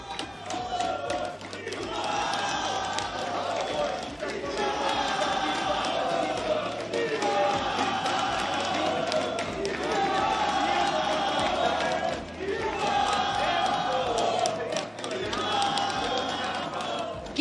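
A large crowd in a stadium roars and chants in surging waves at a CONMEBOL eLiberta football final played on eFootball, loud and continuous with rising swells, while voices carry under the din.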